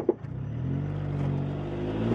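A car accelerating hard in city traffic, engine note rising steadily over about two seconds, close and fairly loud with a constant low rumble and no talking.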